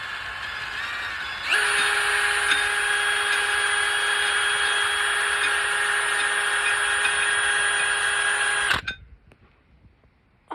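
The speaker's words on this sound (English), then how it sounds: "put it on a drill, find out a lot easier than trying to twist it with your hand" A cordless power drill running in reverse to undo a nut on joist hanger work, a steady high whine that starts abruptly, holds for about seven seconds, then cuts off and winds down, close and alone.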